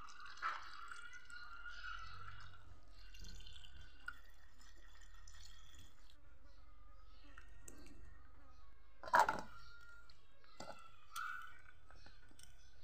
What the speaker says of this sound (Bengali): যতক্ষণ না আলু ধোয়ার জলগুলো পরিষ্কার বেরোচ্ছে, ততক্ষণ পর্যন্ত আলুগুলো ধুতে হবে।